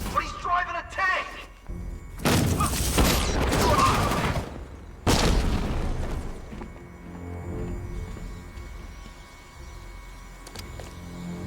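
A tank in the Batman: Arkham Knight video game rumbles and blasts in two loud, dense bursts, with sharp percussive impacts and heavy low-end noise, then settles into a quieter mechanical drone under game voices.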